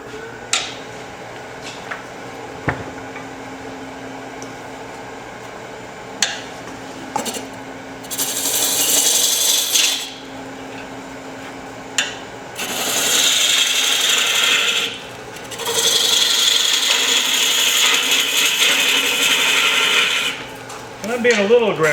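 A ring tool cutting end grain wood on a lathe produces close, harsh rasping and scraping in several bursts of a few seconds each, separated by quieter spinning hum and small knocks.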